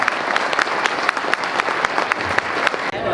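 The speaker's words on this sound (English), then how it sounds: "one more time, round of applause for Rob." Steady, dense applause from a conference audience at a lawn care event fills the whole stretch, loud and continuous with closely packed claps, then cuts off abruptly near the end.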